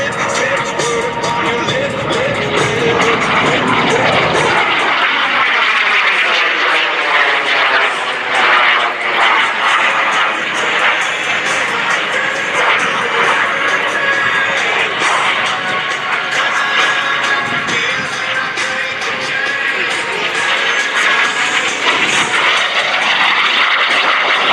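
A mini jet plane dives and sweeps low past the crowd at the Great Texas Airshow, its loud roaring whine rising and swelling with a Doppler-like sweep, then holding a sustained engine roar as it passes.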